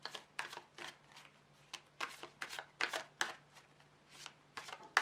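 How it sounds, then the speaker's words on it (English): Tarot cards are shuffled in quick repeated bursts, a soft riffling whirr coming in short bursts with brief pauses, close and fairly quiet. "I'm just going to shuffle these cards for a bit"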